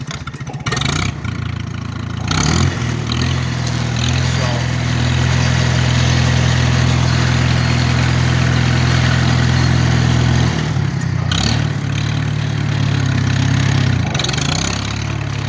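A Farmall H tractor engine idles nearby with a steady, low chugging drone, and a few brief surges in throttle break in near the start and close to the end.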